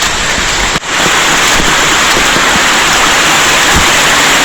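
Heavy rain pours down in a dense, steady roar, loud and close, with a brief dip near the start and no talking.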